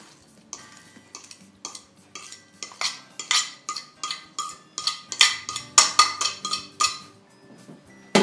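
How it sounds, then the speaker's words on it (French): Spoon or spatula mixing mashed bananas into banana bread batter in a bowl, a run of quick scraping clinks and taps that grow louder and denser, close up with no talking. "Et on mélange."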